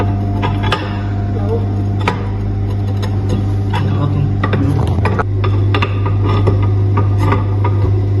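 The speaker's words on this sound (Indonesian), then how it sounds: "Nah, itu Pasang baut. kencangan baut." Bolts are tightened on the plate of an impact-of-jet lab apparatus with scattered metallic clicks and light clanks over a steady low machine hum, while a person talks throughout.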